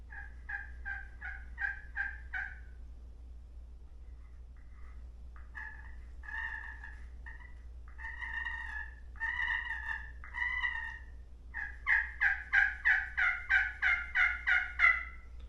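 A Little Deuce slate turkey call played softly gives short runs of smooth, clucking yelps in several bursts, ending with a louder, evenly spaced series of about ten notes over a faint low hum.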